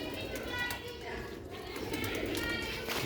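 A pair of Sialkoti chuha pigeons coo softly, close by, their low, throaty calls rolling under someone speaking over them.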